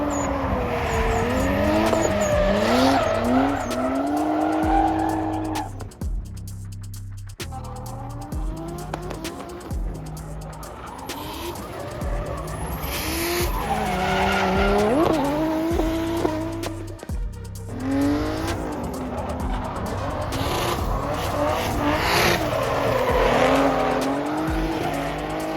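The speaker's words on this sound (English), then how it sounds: "I'm really enjoying watching all the cars drift around the track." JDM cars drift around a track at an Arizona Fuel Fest event, engines revving loud and close with sustained, wavering tire squeal and skids, sweeping passes through the whole stretch.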